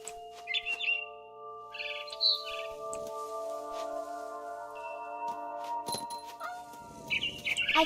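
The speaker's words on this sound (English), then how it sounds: "Then I heard chirping outside my window." A barn swallow chirps in short bursts over a steady sustained musical tone in the video game What Remains of Edith Finch, with occasional flutters and faint rustling nearby.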